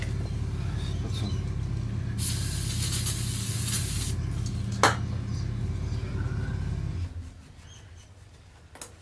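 Spray lubricant hisses onto the chain of a Ducati Monster S4 motorcycle in two bursts, a short hiss and then a longer steady one, close by over a low background hum that fades near the end.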